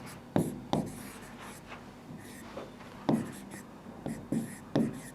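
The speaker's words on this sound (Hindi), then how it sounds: "इसको मैं हिंदी में भी लिख देता हूं" Marker or chalk writing on a board during a computer class, heard as several short scratchy strokes in bursts, fairly close, with faint whispery room noise between them.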